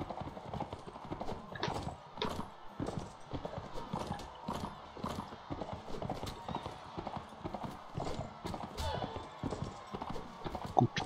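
Horse hooves gallop in a tournament in the video game Mount & Blade Warband, a fast continuous clip-clop with a brief whinny, while voices sound faintly in the background.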